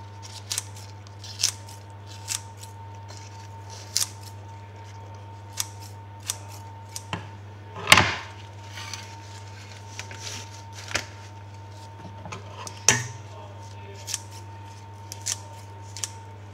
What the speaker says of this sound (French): je vais leur donner de la salade. Donc voilà, que je vais couper pour que ça rentre bien dans les bols.